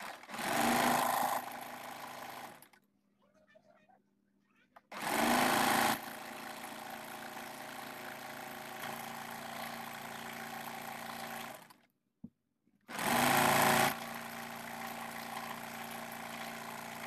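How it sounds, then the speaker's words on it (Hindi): A sewing machine runs close and steady, stitching along the open side of a folded fabric neck strip, in long continuous runs broken by brief stops, with no talking. "अब हम पट्टी को इस तरह से फोल्ड करते हुए ओपन वाली साइड एक पैर की सिलाई लगा लेंगे।"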